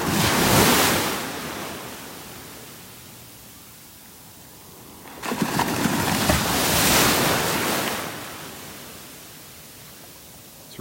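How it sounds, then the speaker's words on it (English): Small, calm ocean waves break along a shell-strewn beach in North Naples, Florida, two broad rushing swells of surf rising and fading near the shoreline, with wind noise on the microphone between them. "Some little waves breaking here along the shore."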